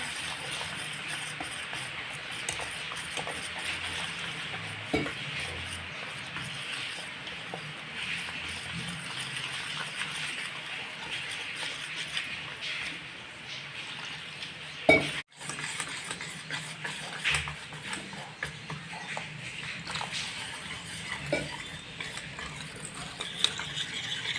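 A spoon stirs fasting dosa batter mixed with crushed peanuts in a bowl, a soft continuous scraping and clinking with one louder knock partway through, no voices.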